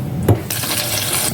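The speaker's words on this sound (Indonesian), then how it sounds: "air dari keran." Tap water runs steadily into a bowl for soaking while making bakso, a continuous bright splashing stream that starts after a brief knock, close and loud with no talking.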